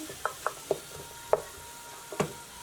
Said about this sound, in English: Continuing to stir.